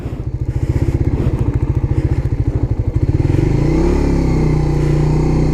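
A Suzuki GSX-R150 sport motorcycle idles with a loud, close, steady thumping pulse, then the engine revs and accelerates into a smooth, rising roar.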